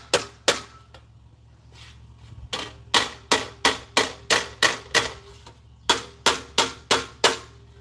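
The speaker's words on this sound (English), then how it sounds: "You have to use a hammer to push your material around." Hammer blows pushing and shaping material, a sharp loud strike followed by a rapid, evenly paced run of about a dozen more, with a short pause between bursts and no talk.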